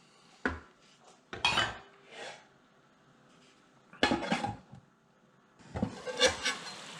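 Cabbage and pork stirred in a cooking pot with chopped tomatoes, a metal spoon scraping and clanking against the pot in several close, loud bursts separated by quiet pauses.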